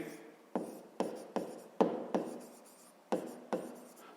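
Pen strokes on paper while working a school maths exercise: short, crisp taps and scratches in an irregular rhythm, about eight distinct strokes, close and quiet, with no talking.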